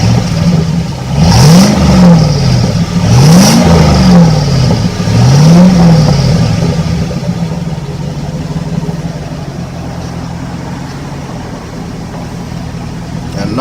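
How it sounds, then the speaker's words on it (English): A 1998 Chevy Suburban with a swapped-in 5.3 V8 and 4L65E transmission is revved hard three times, each rev rising and falling, then settles into a steady rumbling idle, loud and close on a cold morning. "I'm gonna give y'all a few revs of it so you kind of hear it and see what you think about it."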